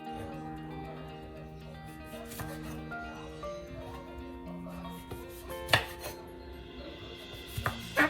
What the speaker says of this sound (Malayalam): ഈ കപ്പ മുറിക്കൽ മാത്രമാണ് ഒരു പാട് കേട്ടോ